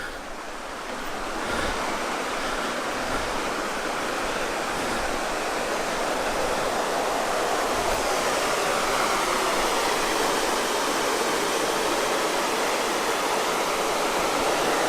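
A steady, roaring rush of falling water at Algar Falls fills the whole stretch, loud and continuous with no voices.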